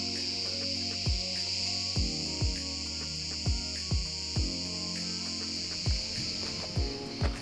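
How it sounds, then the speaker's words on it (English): A loud, steady high-pitched buzz of cicadas fills the air at Mount Chimaera in Turkey, with regular deeper pulses repeating every second or so. "There's also some crazy sounding bugs that sound like cicadas on steroids."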